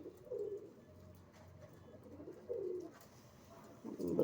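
Pigeons coo in soft, throaty bursts, a few separate calls repeating at intervals against a quiet background.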